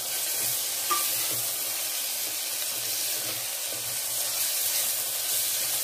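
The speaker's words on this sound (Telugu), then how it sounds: "యాడ్ చేసుకొని ఒక 5 మినిట్స్ అలాగా మగ్గనియాలన్నమాట." Beans, potato and other vegetable pieces for pulao cook in a pan, giving a steady low sizzle and hiss that carries evenly throughout with no talking.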